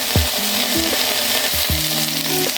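Jackfruit pieces sautéing in oil with turmeric powder, a loud continuous sizzle with a few low thuds and brief tonal hums in the background.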